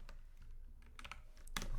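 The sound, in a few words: typing on a computer keyboard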